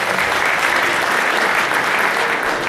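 Audience applause fills a school graduation-evening show by a 12th-grade class, a steady dense clapping from a crowd that holds evenly throughout without pause.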